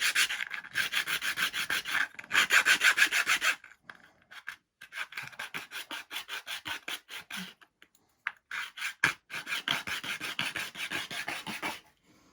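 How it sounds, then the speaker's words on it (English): A sanding block rasps over a model aircraft canopy in steady back-and-forth strokes, arriving in bursts separated by short pauses. The scraping is close and fairly quiet, with no voices. "With the sanding block"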